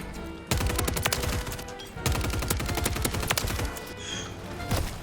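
Superi 46 SMG gunfire in Call of Duty: Modern Warfare: loud rapid bursts crackle in several rounds, separated by brief pauses, with a distant high tone near the end.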